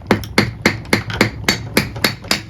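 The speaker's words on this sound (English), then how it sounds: "So I'm just going to tap it down in there." A seal being hammered down into a hole in the m54 mower deck of a Rural King RK19 tractor; nine sharp, evenly spaced taps at close range, loud and rhythmic, no talking.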